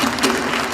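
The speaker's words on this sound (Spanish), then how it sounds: "Otro aplauso." Concert audience applauding a performer, a dense, steady wash of clapping that stays loud and even through a brief burst.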